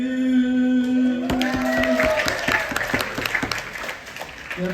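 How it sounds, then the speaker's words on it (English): An audience breaks into applause at a conducting-themed nerd night, loud broadband clapping that swells after a sustained musical note fades, with some crowd noise underneath. "You're applauding yourself right"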